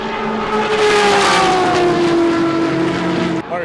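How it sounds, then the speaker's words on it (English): Porsche 962 race car engine roaring loud and close at a vintage racing event, a steady high-pitched howl whose pitch slides gradually downward as it holds, cutting off abruptly near the end. "a 962 is super loud"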